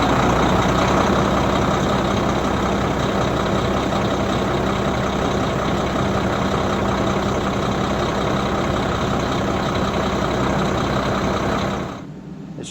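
A diesel RV engine runs at a steady idle in the morning, a loud continuous low rumble that holds evenly and then drops away near the end.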